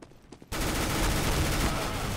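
Gunfire from the video game Counter-Strike: Global Offensive erupts after a brief quiet moment with faint sounds, then becomes a loud, sustained burst of rapid shots that continues to the end.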